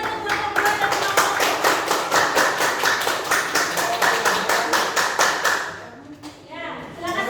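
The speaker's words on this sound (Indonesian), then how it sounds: "Tepuk tangan untuk kelompok 2 dan kelompok." Audience in a classroom coaching session clapping steadily for a group, a dense run of loud hand claps that fades out toward the end.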